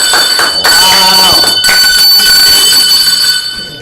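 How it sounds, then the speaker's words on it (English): A bell rings loudly at a prize giveaway, a sustained bright metallic ringing with lingering overtones that fills the clip, with crowd noise beneath. "Ring the bell, ring the bell, ring the bell."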